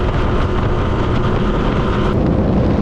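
A brand-new Suzuki outboard pushes a small island-hopper boat across choppy water, its motor droning loud and steady beneath heavy wind buffeting the microphone.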